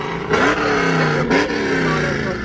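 A car engine revs hard twice in quick succession, rising and falling in pitch, then idles loudly and steadily nearby while people talk in the background.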